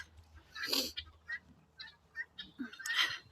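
Several soft, scattered calls from turkeys, quiet and a little distant, with short gobbling and clucking bursts.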